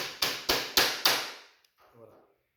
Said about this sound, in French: Nos deux petits coups de marteau.